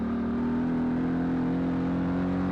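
Can-Am Maverick Trail 800 side-by-side engine driving a snowy wooded trail, a steady loud drone with a low hum held evenly throughout and no talking.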